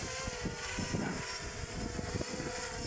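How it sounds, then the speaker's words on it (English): Strong, gusting wind buffets the microphone outdoors during a small drone flight, a loud broadband rush with uneven bursts and no clear voices. "this is the situation of wind, so there is a very, very hard wind"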